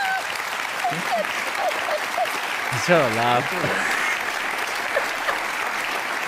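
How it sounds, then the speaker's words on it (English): Audience applause fills the whole stretch as a steady wash of clapping from a crowd, with a voice speaking briefly over it near the middle. "Why the fuck are you clapping?"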